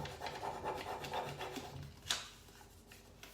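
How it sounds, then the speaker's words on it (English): Icing paste is rubbed over a surface in a craft project, giving a soft, continuous scratchy rubbing in quick repeated strokes, quiet and close with no voices. "just keep rubbing, keep constantly rubbing."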